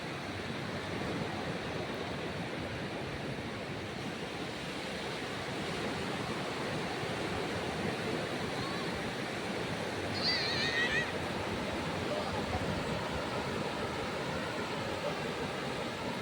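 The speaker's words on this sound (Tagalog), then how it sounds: "maganda po talaga ang alon" Ocean waves wash onto a beach shore, heard as a faint, continuous rushing surf with no distinct breaks, steady throughout and slightly brighter near the end.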